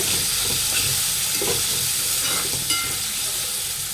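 Finely chopped tomato frying with onion and green chilli in a pan, giving a steady hissing sizzle with a few spoon scrapes and clinks, no voices.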